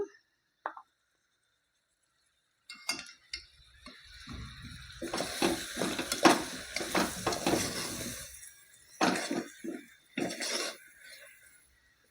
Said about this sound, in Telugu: కొంచెం పసు వేసుకొని కలుపుకుందాము